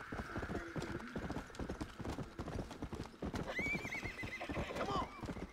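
Horse hooves clip-clop steadily in the video game Red Dead Redemption: Undead Nightmare while someone talks over them, and a horse whinnies twice near the end.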